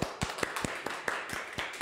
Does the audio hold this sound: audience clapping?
yes